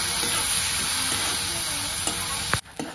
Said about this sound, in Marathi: टमाटर पण आपल्याला 2 मिनिटासाठी तेलात हलवून घ्यायचं